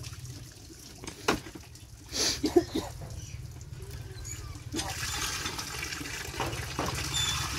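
Water gushing from a pump in a steady, rushing wash that runs through the whole clip, with brief bumps and splashes, heard close by and mostly alone.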